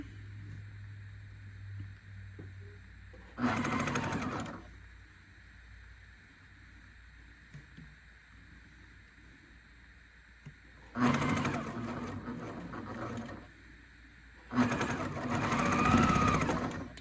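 A sewing machine topstitching fabric for a pediatric port shirt runs in three separate bursts, each a loud, fast whirring rattle, with quiet room tone and faint handling noise between them.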